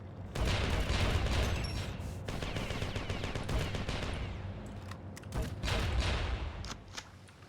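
Video game grenade jump during a speedrun: a dense, continuous barrage of explosive booms and rapid gunfire, loud and close, with brief dips before the firing resumes.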